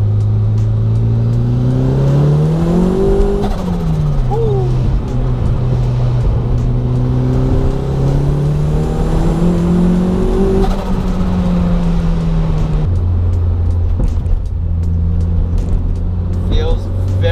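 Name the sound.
turbocharged Toyota MR2 accelerating through second and third gear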